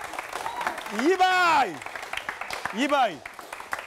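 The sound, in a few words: TV studio audience applause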